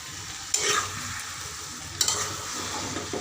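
Eggplant, cauliflower and potato bhaji stirred in a pan, with two distinct scraping stirs over a steady low frying sizzle, alone and close.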